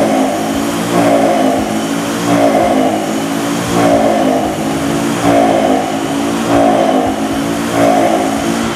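A car engine on an Axis Dyno VX-5 dynamometer revs in repeated surges as the throttle is pressed and released, loud rhythmic rising and falling roars roughly every second and a half.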